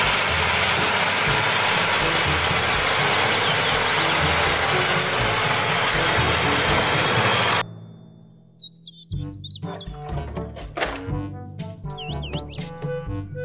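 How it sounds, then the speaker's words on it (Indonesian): A toy tractor gives off a loud, steady mechanical rattle for about seven seconds, then cuts to bright electronic chirps and a bouncy toy melody. "Mobil traktor."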